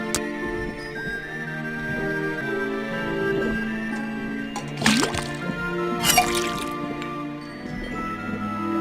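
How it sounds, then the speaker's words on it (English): A faucet drips in the point-and-click detective game Detective Grimoire: two distinct watery plinks land a second apart over sustained, soft ambient music tones. "First thing we do, then tap the faucet."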